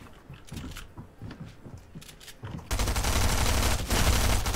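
Shotgun fire in an online duos shooter video game: a string of separate sharp shots at first, then a dense, loud, continuous burst of rapid gunfire that keeps going to the end.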